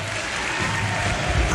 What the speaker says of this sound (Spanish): van a levantar los brazos para llevarse el aplauso de su hinchada el día de hoy